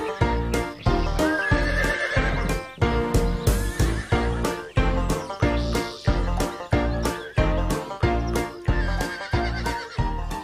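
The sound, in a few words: horse galloping and neighing in an animated film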